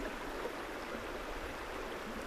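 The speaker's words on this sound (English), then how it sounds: "the sound of the river." A river stream flows in a soft, steady rush of water, faint and continuous with no voices.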